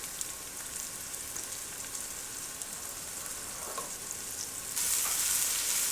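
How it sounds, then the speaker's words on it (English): Garlic and onions fry in a pan for adobo chicken, giving a steady, moderately quiet sizzle throughout that grows brighter and louder for the last second. "go ahead and soften those onions up"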